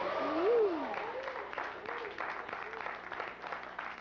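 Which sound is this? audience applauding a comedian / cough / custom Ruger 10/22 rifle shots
audience applauding a comedian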